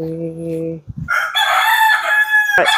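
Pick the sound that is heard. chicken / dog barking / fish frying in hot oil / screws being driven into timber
chicken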